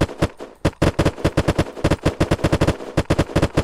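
Rapid bursts of gunfire from a gun in the video game Unturned crack out in quick succession, loud, sharp and close, repeating in an uneven automatic rhythm with no talk.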